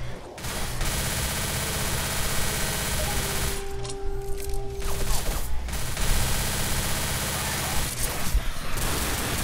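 Sustained automatic gunfire in the zombie shooter Left 4 Dead roars almost without pause, dense and loud, breaking off briefly in the middle before resuming.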